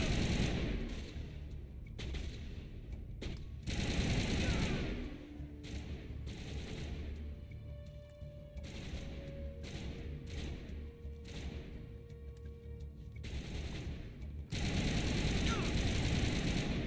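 Gunfire from the video game Mass Effect, bursts of shots and thuds during a firefight, mixed with game sounds and a player talking over the action throughout.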